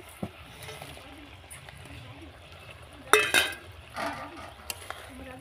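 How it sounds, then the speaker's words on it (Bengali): Ruli fish are stirred into a pan of boiling curry, giving a quiet bubbling backdrop and one brief, sharper clatter of the utensil against the pan near the middle, with no talking. "দিয়ে একটু নেড়ে দিই।"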